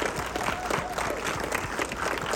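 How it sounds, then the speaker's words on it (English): A room full of people applauds military veterans as they stand, steady dense clapping carrying on throughout with a crowd murmur beneath. "Can we give these folks a round of applause as a thank you for their service?"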